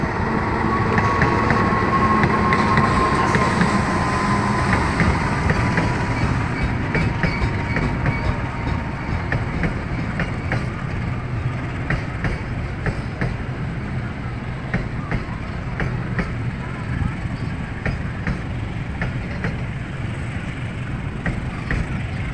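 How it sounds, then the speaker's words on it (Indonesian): A freight train rolls into Jatinegara station in Jakarta, its wagons producing a loud, continuous rumble with rhythmic clickety-clack over the rail joints, plus a brief whistle early on and faint voices beneath. "Masuk kereta api barang dari stasiun Pasar Senen."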